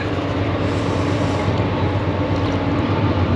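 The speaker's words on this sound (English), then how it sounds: "I hear a train a-coming." Train passing near a gold-panning spot, a steady low rumble and broad roar that holds even throughout, fairly loud with no talk.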